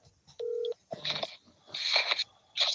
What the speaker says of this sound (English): We're gonna give a little phone call to our man, Mr. Machine.